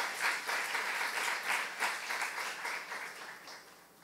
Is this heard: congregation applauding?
yes